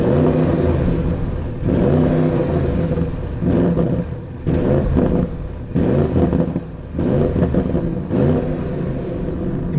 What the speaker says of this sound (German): man hört den Motor gut, das Auto vibriert mit